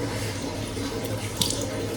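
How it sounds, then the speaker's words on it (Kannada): Tap water running steadily into a sink while someone washes their face with ice water, a close continuous splashing flow with a brief louder splash near the end. "ಫೇಸ್ ವಾಶ್ ಮಾಡ್ತೀವಿ"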